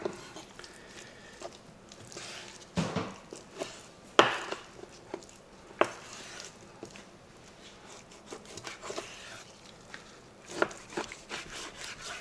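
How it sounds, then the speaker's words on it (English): A knife cuts meat into small chunks for grinding on a board, soft irregular chops and thuds with a few sharper knocks, fairly quiet and close. "What I do, I cut it up grinder size."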